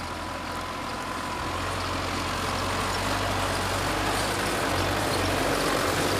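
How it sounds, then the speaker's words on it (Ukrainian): A tractor mows a cannabis field near Sievierodonetsk, its engine a loud, steady drone that holds unbroken for the whole stretch with no voices. "Для покосу канабісу навіть застосували трактор."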